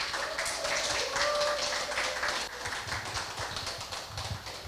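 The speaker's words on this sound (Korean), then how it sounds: "허정필 부산 동래소방서 화재조사관님을 힘찬 박수로 모시도록 하겠습니다" An audience claps warmly to welcome a fire investigator onto the stage at a disaster-safety talk concert in Busan, a steady rush of applause that holds for several seconds and then thins slightly.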